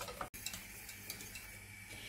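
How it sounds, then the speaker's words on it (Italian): A spoon stirs milk custard in a pot over a lit stove flame, producing soft scraping and light ticking against the pot with a faint sizzle underneath, steady and close. "Accendiamo la fiamma e mescoliamo continuamente."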